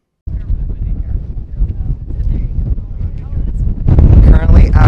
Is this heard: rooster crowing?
no